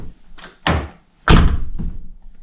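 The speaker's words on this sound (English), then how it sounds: "It's that rattle just after it closes" A 2009 Nissan GT-R door swings shut with two solid thunks, followed by a brief buzzy rattle from the lock area as the door settles, close and loud.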